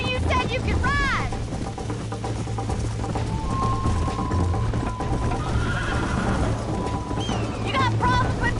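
Horses whinny loudly and hooves clip-clop at a gallop during a race in the video game Red Dead Redemption, with characters talking over the hoofbeats and a second neigh near the end.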